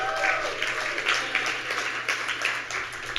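Applause from the crowd at a Reactathon 2017 hackathon event for the top teams: dense, steady clapping filling the room, moderately loud with a few louder bursts, and a faint voice underneath.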